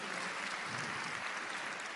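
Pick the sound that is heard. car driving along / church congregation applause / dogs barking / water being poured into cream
church congregation applause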